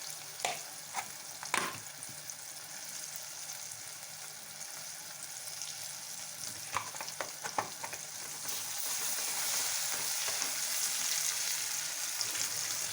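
Ginger garlic paste fries in a pan for an Andhra brinjal curry, a quiet, steady sizzle with scattered spoon taps and scrapes. The sizzle grows a little louder and brighter in the last few seconds.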